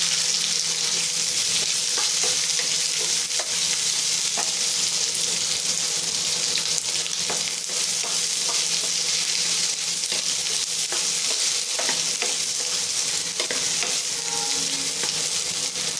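Three long-sliced onions fry in a pan for an egg kootu, a loud, dense and constant sizzle close by, dotted with faint stirring knocks.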